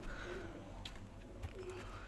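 Pigeons cooing softly inside their coop, a faint low murmur of a few coos with quiet background hum and no clear talk.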